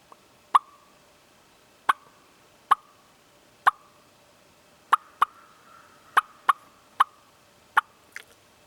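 A mouth turkey call imitates wild turkey clucks: about ten sharp, short clucks spaced irregularly, loud and close, with nothing else in the background.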